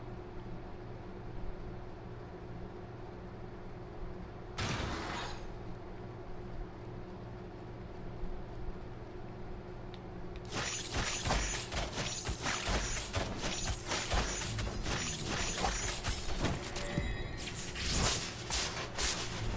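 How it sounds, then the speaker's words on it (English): Elevator ride up in the game Death's Gambit, a low mechanical hum with creaking, then a single clanking burst and, later, a long stretch of dense rattling, grinding gear noise. "This is quite the elevator ride up."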